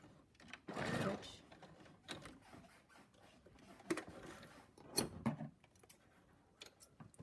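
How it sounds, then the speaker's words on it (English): A sewing machine stitches quickly across a homemade fabric face mask, its whirring runs coming in short bursts separated by pauses, close and moderately loud, with someone talking between them. "you're just going to stitch quickly all the way across"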